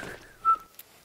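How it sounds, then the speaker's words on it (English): A single whistle is blown in the Roblox game Evade, a short rising-then-steady tone near the middle of the clip, fairly loud against faint background game noise. "I'm just gonna eventually blow my whistle"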